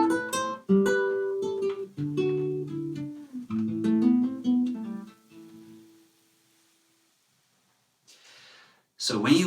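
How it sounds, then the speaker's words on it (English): Soft plucked notes and strummed chords on a nylon-string classical guitar with a warm, mellow tone, ringing out and fading into silence before a brief noise at the end. "This one is a classical guitar."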